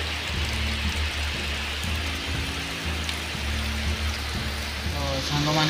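Heavy rain pours down steadily over a village, a dense close hiss of drops on surfaces, with a low rumbling hum underneath and a faint voice or music fragment near the end.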